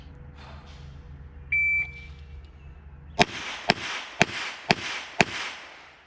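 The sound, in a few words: five rapid revolver shots from a Smith & Wesson 32 LCR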